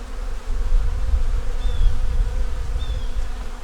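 A hive full of honey bees hums with a dense, close-up buzz that stays steady and loud, with faint individual wingbeat whines rising above the swarm.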